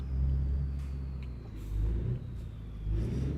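Kenworth W900 truck engine in American Truck Simulator, a deep steady rumble that swells and revs in a few surges over about three seconds, with no talk.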